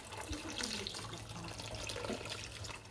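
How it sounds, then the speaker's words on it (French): Water pours steadily from a tap into a cooking pot for a pistachio and okra sauce, a continuous close splashing rush heard alone. "On va ajouter de l'eau."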